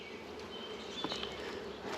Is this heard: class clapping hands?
no